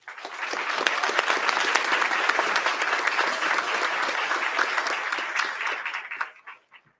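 An audience breaks into applause as someone speaker, a Blue Cross and Blue Shield executive, is welcomed to the podium at a ribbon-cutting event, a dense steady clapping for about six seconds that fades out quickly.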